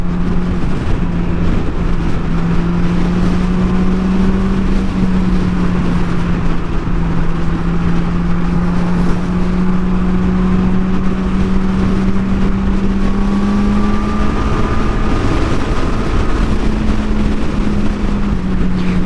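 A Honda CBR600RR sport motorcycle engine with a quickshifter drones steadily with rising and falling pitch, revving up and easing off repeatedly, with wind buffeting throughout and no talking.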